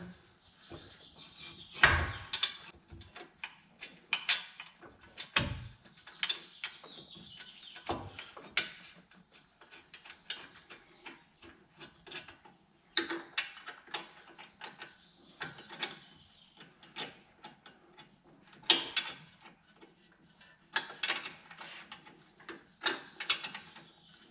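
Wrench work on the brake caliper bolts of a 2008 Hyundai Santa Fe, a series of close ratcheting clicks and metallic clanks in short bursts separated by quiet pauses.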